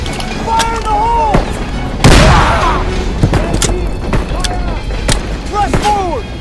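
A grenade blast in Call of Duty WWII's S.O.E. mission: one loud, broad burst erupts about two seconds in, amid ongoing battlefield gunfire, shouting soldiers and chatter.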